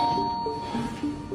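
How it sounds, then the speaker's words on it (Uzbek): A doorbell sounds in a horror tale, a short run of bright electronic chime notes that steps through a brief melody over a quiet room. "to'satdan eshik negadir yana jiringladi"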